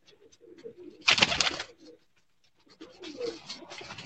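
A pigeon coos close by, a soft low call followed by a louder burst of wing flutter or rustling, then more quiet cooing toward the end.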